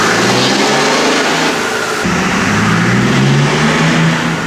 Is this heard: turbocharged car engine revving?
yes